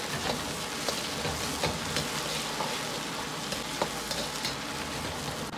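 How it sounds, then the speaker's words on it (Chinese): Drained potatoes get a quick stir-fry in a wok of hot oil with scallion and pork fat, a steady loud sizzle broken by frequent scraping strokes from the spatula, close and alone. "接着下入控干水分的土豆，稍微翻炒几下"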